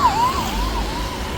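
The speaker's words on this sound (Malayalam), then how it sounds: "ആംബുലൻസ് ഒക്കെ ബ്ലോക്കായി" An ambulance siren wails steadily in a traffic jam, its rising and falling tone fairly close and continuous over rumbling road noise.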